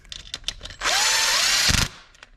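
A power drill tightens the coil pack screw on a GM 2.0L turbo engine, one whirring burst of about a second that rises in pitch and stops abruptly, with a few light clicks around it.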